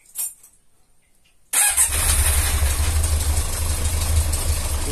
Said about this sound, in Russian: Без подсоса завелся отлично.